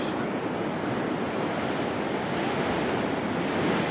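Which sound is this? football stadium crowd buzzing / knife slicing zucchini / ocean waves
ocean waves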